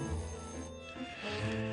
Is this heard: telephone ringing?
yes